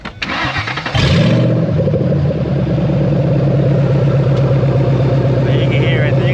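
A car engine with a badly leaking exhaust cranks and fires up, then settles into a loud, steady idle with a ticking, puffing rasp running through it, close by with no talk over it.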